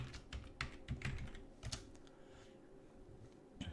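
Keys clatter on a computer keyboard as a password is typed into a Manjaro GNOME desktop's settings, a quick burst of close taps that thins out into a quiet pause before a final few strokes, with no voices.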